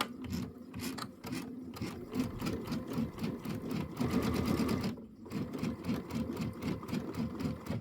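A sewing machine runs steadily, stitching pieced quilt block pieces for pinwheel and four-patch blocks, a fast continuous mechanical whir with rhythmic needle clatter, close and loud, pausing briefly near the end before resuming.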